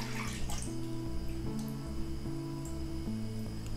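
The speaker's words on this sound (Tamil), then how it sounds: "வந்து ஸ்டவ் ஆன் பண்ணி அதில் பாலை முதல்ல விட்டுட்டு" Milk pours steadily into a pan on the stove for carrot halwa, a continuous close liquid trickle and gurgle with shifting tonal splashes as the pan fills.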